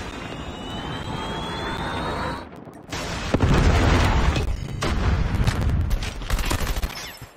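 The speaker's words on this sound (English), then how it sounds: "Predator missile inbound" Predator missile strike in Call of Duty Mobile during a 5v5 Kill Confirmed match on Rush, a rising whine cut off by a heavy, rumbling blast, then scattered gunfire and explosions rolling on for several seconds.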